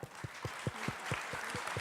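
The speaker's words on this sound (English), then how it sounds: "Big round of applause for amazing" A small audience at a Ruby conference lightning talk session gives a light round of applause, with a handful of evenly spaced individual claps standing out against a faint wash of clapping.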